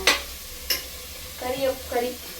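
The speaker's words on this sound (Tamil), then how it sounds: "கறியை போட்டு ஒரு கிண்டி விட்டுருவோம்." A spoon stirs chicken pieces into a frying masala curry base in a pan, giving a couple of sharp scrapes followed by soft bubbling sizzle, close and fairly loud.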